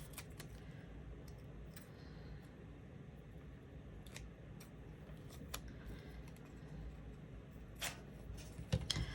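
Scissors snipping paper while trimming a sheet to fit a planner, a few faint crisp cuts scattered over quiet room noise, with a small cluster of louder snips near the end.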